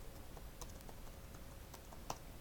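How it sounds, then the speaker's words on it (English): Fingers tap on a computer keyboard in a quick, uneven run of faint, close keystrokes over a soft background hiss. "So I'll just type Python"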